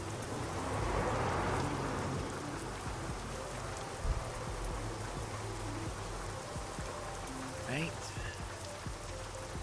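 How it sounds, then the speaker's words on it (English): Steady rain from a thunderstorm in a truck driving game hisses continuously throughout, with a faint low rumble and occasional soft knocks, and a brief spoken word. "Love the sound of a thunderstorm."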